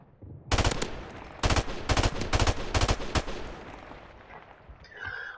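Five sharp bursts of automatic gunfire in Call of Duty: Modern Warfare Remastered, each a tight cluster of rapid shots, loud and close, spaced about half a second apart before trailing off into quieter background game noise.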